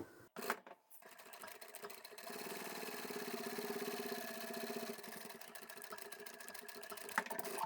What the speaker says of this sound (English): I'll start sewing at that seam at the bottom edge.